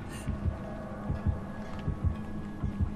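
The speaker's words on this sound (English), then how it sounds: "I don't like the heartbeat" Slow, steady heartbeat pulsing in Dead by Daylight, a horror game, with regular low thumps roughly every 0.8 seconds over a dim ambient hum, no voices.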